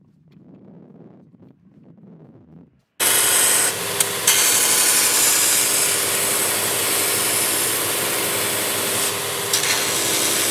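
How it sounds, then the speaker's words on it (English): A belt sander smooths the rough edge of a wooden stomp box. It starts abruptly after quiet handling noises and then runs as a loud, steady abrasive roar with a constant motor hum. "I'm just going to clean that up on the belt sander."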